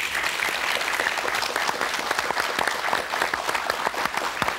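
Studio audience on a KBS radio talk show bursts into dense, lively clapping after a phone guest is thanked, loud and sustained from start to finish with no talking over it.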